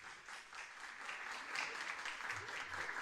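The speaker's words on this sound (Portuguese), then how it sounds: "Aplausos para os nossos patrocinadores." An audience at a theatre festival opening applauds the sponsors, a steady close wash of clapping that swells slightly and holds throughout.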